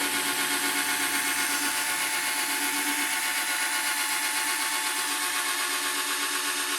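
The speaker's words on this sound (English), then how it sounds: "keep it steady and buffer it all off all around the headlight" Continuous whirring hum of a drill running a buffing pad over a car headlight, steady and close, with a slight wavering whine throughout.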